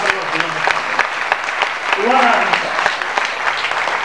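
Audience applause at a Marathi public speech, a steady crackling spread of clapping from a crowd, moderately loud and filling the whole moment, with a brief murmur of voices rising partway through.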